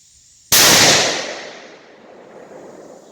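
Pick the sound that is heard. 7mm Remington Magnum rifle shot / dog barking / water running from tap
7mm Remington Magnum rifle shot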